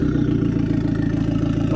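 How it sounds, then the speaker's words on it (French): An Abarth's engine fires up and runs with a steady, clattery mid-pitched idle, loud and close with no talking over it. "Les gars, on va passer du coup au démarrage, son du moteur."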